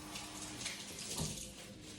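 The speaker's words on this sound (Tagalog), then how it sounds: "binabasa ko ng tubig yung kamay ko" Water runs steadily from a tap as gloved hands are wetted, a soft, continuous splashing rush at close range with no talking.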